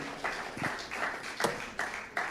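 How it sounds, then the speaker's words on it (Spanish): A church congregation claps in praise during a Spanish-language worship service. The claps come in a few loose, rhythmic bursts with gaps between them and sound fairly quiet and a little distant. "Denle un aplauso al Señor"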